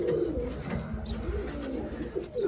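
Domestic pigeons in a loft with eggs and young squabs give soft, repeated throaty coos close by, in a steady low rhythm with a few light rustles and no talking.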